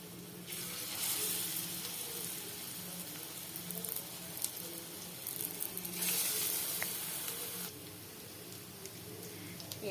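Lentil fritters, masoor dal bora, frying in hot oil in a home kitchen, a soft steady sizzle and hiss that swells louder in stretches as batter goes in, with small clicks along the way.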